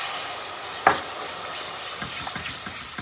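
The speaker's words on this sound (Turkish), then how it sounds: "Hemen soğuk suyu karıştırıyoruz." Cold water is stirred into toasted flour in a pot for Turkish tomato soup, a soft continuous scraping and swishing with one sharper clink of utensil against the pot and faint sizzling, no talk.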